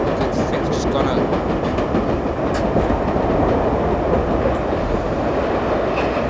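New York Line 7 subway train running in the World of Subways simulator game, a loud continuous rumble with rhythmic wheel clatter throughout.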